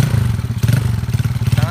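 A Yamaha Mio 150cc roadrace motorcycle engine runs up close with a rough, pulsing idle and a slight rise in revs under throttle, while people talk over it.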